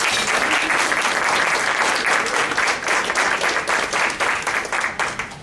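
A large audience at a college unity celebration claps steadily for the chef and his team, a dense, loud, sustained wash of applause that thins slightly toward the end.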